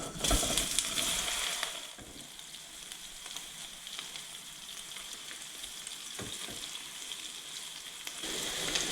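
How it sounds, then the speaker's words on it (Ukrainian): Steady sizzling of mushrooms frying uncovered in a pan, with a few louder crackles and stirring scrapes, close up and without voices. "Як гриби пустили сік, відкриваю кришку та обсмажую без кришки"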